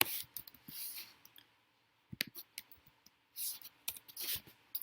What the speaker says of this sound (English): type in the name for the account